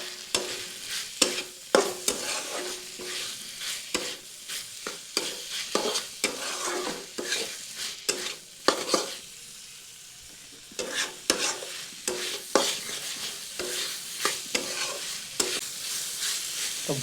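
Chicken stirred with tomato sauce in a pan, a spatula scraping and clacking in irregular strokes over a soft sizzle, with a brief quieter pause midway before the stirring resumes, close and alone.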